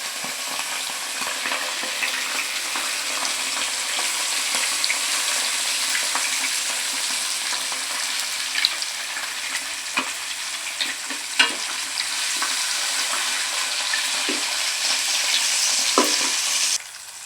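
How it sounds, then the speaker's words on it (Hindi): Fish fries in a kadhai over low heat with a steady, dense sizzle throughout, broken by occasional light pops and stirring clicks, close and continuous with no talking. "ये देखें हल्की आंच इसलिए हमने रखी है ताकि हमारी जो मच्छी है ना अंदर से बिल्कुल अच्छे तरीके से पक जाए"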